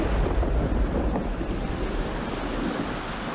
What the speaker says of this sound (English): The real killer was training thunderstorms, multiple storms that pounded the exact same areas for hours